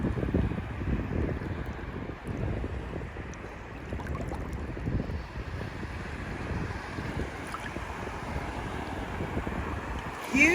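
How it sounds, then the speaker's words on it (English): Wind gusts and buffets across open sea in Greece while someone stands waist-deep in the water, a continuous low roar with pulsing gusts and a wave-like wash, with no talking. "It's a little windy, a little rainy"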